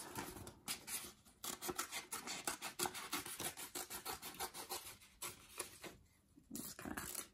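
Scissors snip steadily through craft paper while bunny ears are cut out, a close run of quick rasping cuts with short pauses, alone without talk.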